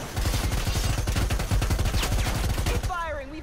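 Dense rapid gunfire from a video game, loud and continuous with sustained automatic bursts, ending in a brief sweeping electronic tone as the shooting stops.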